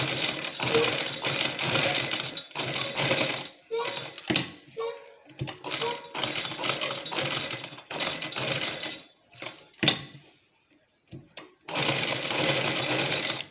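A sewing machine stitches a design onto a trouser hem in a series of fast, buzzing runs of a few seconds each, separated by brief pauses, loud and close while someone speaks between and over the runs.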